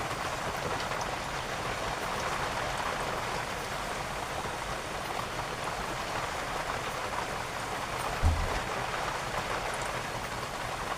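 Rain falls steadily outside a home kitchen during a power cut, an even, continuous hiss with one brief low thump near the end.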